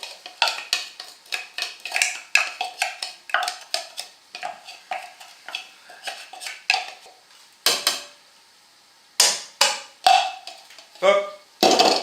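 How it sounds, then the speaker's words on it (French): A spatula scrapes the bottom of a pot while cooking onions and minced steak, producing a close, rapid series of clattering scrapes and knocks, with a few separate louder clinks after a brief pause. "Un petit coup de maryse, n'est-ce pas Claudine, pour nettoyer le fond du pot"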